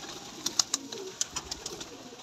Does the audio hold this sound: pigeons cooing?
yes